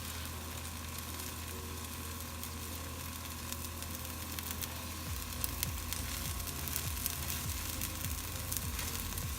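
A loaded omelette sizzles steadily in a frying pan, a quiet continuous hiss with faint crackles, heard close and alone over a low background hum.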